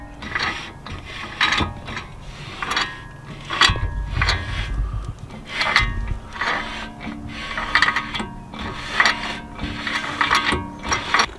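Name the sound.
car wheel brake rotor spinning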